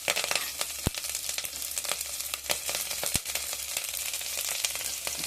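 Mustard seeds and lentils fry in hot oil with a dense, steady sizzle, scattered sharp pops and crackles breaking through close by, with no voices.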